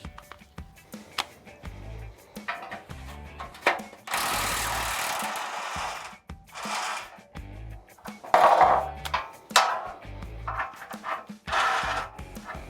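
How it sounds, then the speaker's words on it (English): Rusty bolts on a 1973 Ford Econoline being worked loose with non-impact sockets, with intermittent close bursts of a power tool whirring between short clanks and scrapes of metal, loud and uneven. "Let's use non-impact sockets to remove some rusty bolts"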